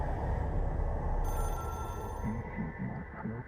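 In the game Control a telephone rings with a sustained bright bell tone above a low background rumble, running for a few seconds before cutting off.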